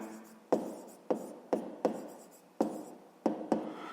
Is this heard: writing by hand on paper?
yes